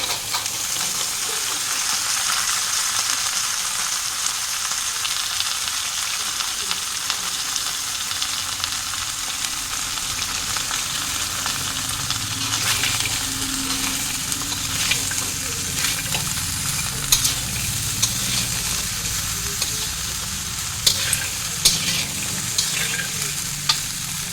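Chopped vegetables fried and stirred in a hot pan, a steady dense sizzle filling the whole stretch with occasional scraping clicks from stirring, close and continuous.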